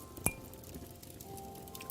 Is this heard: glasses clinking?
yes